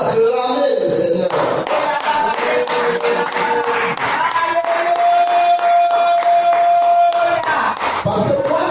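A church congregation at a French-language service claps and cheers, with rhythmic hand claps and crowd voices filling the space, fairly loud and steady throughout.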